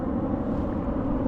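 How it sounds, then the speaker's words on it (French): A fixed-wing airplane passes overhead above a Mediterranean surfcasting beach in the Camargue, heard as a steady, broad low roar with some wind noise, fairly loud and continuous with no talk. "Bel avion qui passe, qui fait bien du bruit."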